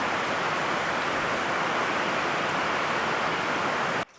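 Steady rain pours outside a solar-powered workshop, a dense, even hiss that holds constant for about four seconds before cutting off abruptly at the end.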